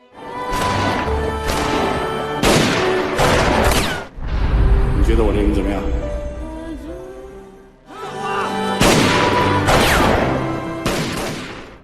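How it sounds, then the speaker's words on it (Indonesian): Bursts of rapid gunfire crackle and boom in repeated volleys between gang members and police outside a building, loud and dense, with brief pauses between exchanges. "Di depan gedung, terjadilah aksi tembak-tembakan antara anak buah Mr. Sam dan anggota polisi."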